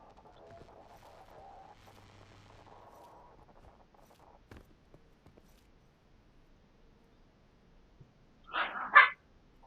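Dogs barking indoors at home: after a long stretch of quiet, two sharp, loud barks burst out in quick succession near the end.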